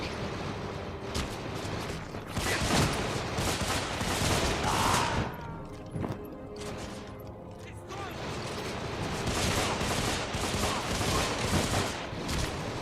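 Revolver shots in the game Deadfall Adventures blend into a dense, sustained barrage of gunfire with clattering impacts, loud and near, running almost the whole time alongside a speaking voice.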